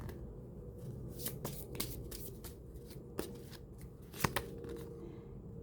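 Tarot cards are shuffled softly by hand, with a quiet continuous shuffle broken by a few sharper card taps, close but low in level, without speech.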